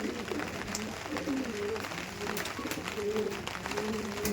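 Pakistani Chotiyal breed pigeons, pink-eyed, coo repeatedly at low pitch in a steady run of soft, rounded calls, fairly close, over a busy background of shuffling and faint voices.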